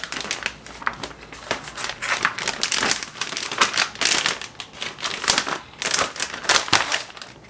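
Meat is handled inside a heavy plastic vacuum-sealing bag for home dry aging, giving continuous close crinkling and crackling of the plastic with irregular louder rustles and no talk.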